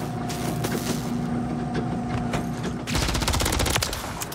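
Automatic gunfire from a gunfight in Call of Duty MW3 ranked play, a dense burst of rapid shots that swells louder in the second half over steady game ambience.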